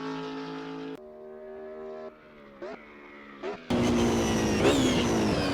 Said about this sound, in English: The BMW streaks through Bentley with stunning speed.